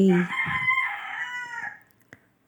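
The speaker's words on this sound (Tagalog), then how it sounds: "Maingay yung manok." A rooster crows loudly nearby, one long drawn-out call that fades away, followed by a brief click.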